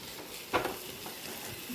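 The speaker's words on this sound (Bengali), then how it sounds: "চলো, মোটামুটি এটা আমার ভাজাটা অনেকটা হয়ে গেছে।" Food sizzles gently while frying in a pan in a home kitchen, a soft steady crackle with a brief stirring clatter near the start, fairly faint and without voices.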